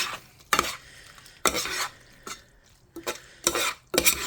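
Annie's organic shells pasta with white cheddar is stirred in a pot with a utensil: about six distinct scraping, sloshing strokes close up, separated by brief quiet gaps.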